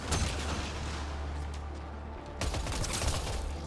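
Enemy gunfire in the video game Mass Effect Andromeda rattles in dense, rapid bursts over a heavy low rumble, with a fresh volley of sharp shots breaking in near the end.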